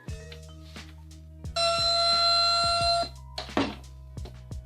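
A shrill homemade anti-theft alarm rings loudly for about a second and a half and then cuts off, with clicks and handling noises before and after.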